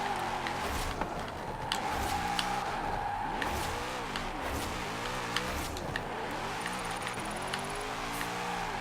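A Nissan 240SX Formula Drift car slides through a drift in the Forza racing game, its engine rising and falling in repeated revving sweeps beneath a continuous tire-skid squeal, loud and close, with no talking.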